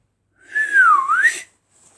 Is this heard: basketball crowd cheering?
no